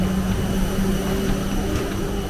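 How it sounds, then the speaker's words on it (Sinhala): Passenger airliner landing at Kuala Lumpur airport, Malaysia, with a steady, loud cabin roar of engine noise that holds without breaks throughout. "දැන් අපි මැලේසියාවට දැන් ලෑන්ඩ් කරා."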